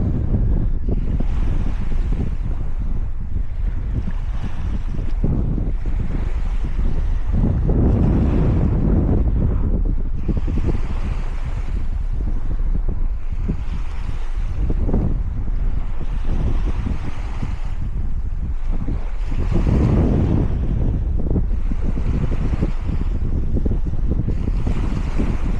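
Strong wind blowing on the River Mersey shore while fishing, a constant loud roar buffeting the microphone in repeated gusts, with no voices heard.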